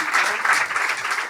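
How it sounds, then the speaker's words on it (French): At a Paris comedy club show, the audience gives a comedian a short, steady round of applause lasting just over a second, with some faint voices mixed in. "Et on a Antec, on peut l'applaudir aussi."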